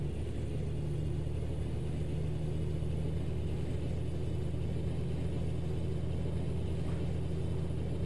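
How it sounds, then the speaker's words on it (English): A Kenworth W900L truck in a driving game rumbles steadily as it skip-shifts through an 18-speed gearbox, a low, even engine drone with a faint mid-range whine and no talking. "Now, I am kind of skip shifting right now through these 18 gears here"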